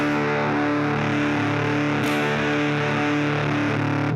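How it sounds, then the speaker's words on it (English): Thick, buzzy fuzz distortion from an electric guitar with its volume knob turned low, a sustained saturated chord ringing steadily with a brief change partway through. "Volume knob pretty low, getting some nice distortion sounds."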